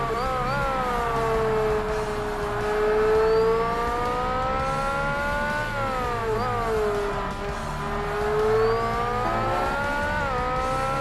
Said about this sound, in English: You just hear his car slowly getting louder.